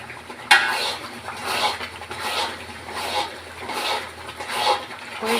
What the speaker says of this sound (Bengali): নাড়তে হবে, নিচে লাগানো যাবে না।